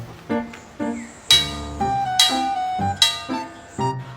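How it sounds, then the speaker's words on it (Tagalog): Strikes of a church bell, the kind rung to call people to service, ringing out with long sustained metallic tones. Several hits overlap and decay in a slow irregular rhythm, heard fairly close. "Ang lakas pa naman ng tunog ng kampana na yan."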